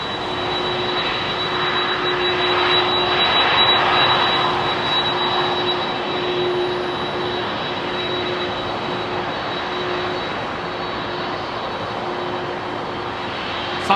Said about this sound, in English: Oh, listen to this 767 pulling on.